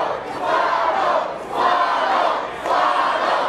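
A wrestling crowd at a Hornswoggle vs. Lil Jay match chants and roars for Hornswoggle in three rhythmic, swelling waves of massed voices.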